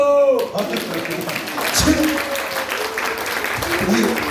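Church congregation applauding at an elders' couples retreat, a broad wash of clapping that fills the room beneath a voice and persists for several seconds.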